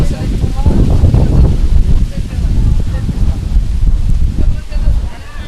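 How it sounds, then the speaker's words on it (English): Strong wind gusting across an open cricket ground during a Hong Kong T20 match, a loud continuous low rumble and buffeting on the microphone, with commentators talking beneath it. "Oh, it's getting really windy."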